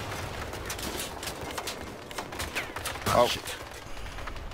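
Bursts of gunfire crackle in rapid volleys during a vehicle battle in the video game Crossout, with louder hits near the end, while a man exclaims over the shots.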